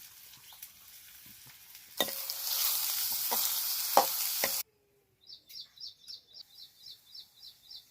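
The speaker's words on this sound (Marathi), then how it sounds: "तेल गरम झाल्यावर सर्वात आधी कांदा टाकलेला आहे" Onion dropped into hot sweet oil in a pan, bursting into a loud, steady close sizzle for a few seconds before stopping abruptly, after which rhythmic bird chirps are heard alone.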